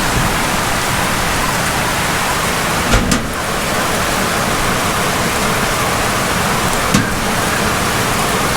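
Heavy rain pours steadily in a broad, loud hiss over a Philippine city street, with two short sharp cracks standing out; no clear thunder rumble.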